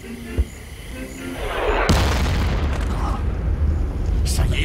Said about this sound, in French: Ça y est, ils recommencent avec leurs obus.